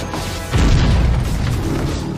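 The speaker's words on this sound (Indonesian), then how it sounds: "Ia menjatuhkan helikopter dengan mengendalikan pikiran pilotnya, dan oleh karenanya terjadi ledakan dahsyat di East River" A heavy, sustained boom with crashing debris as a helicopter explodes over the East River in a film scene, the blast erupting suddenly and rolling on loud and dense.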